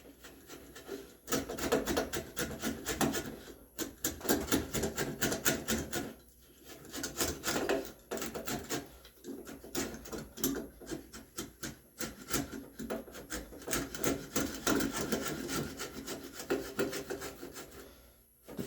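A hand router plane scrapes and shaves along the edge of a red oak tenon in a continuous, rasping series of strokes, close and fairly quiet.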